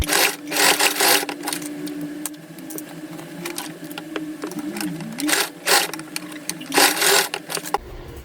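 Sewing machine stitching a seam in a small fabric pouch with a lining, a close, loud mechanical whir that runs steadily with rhythmic surges and a few brief pauses, and no talking.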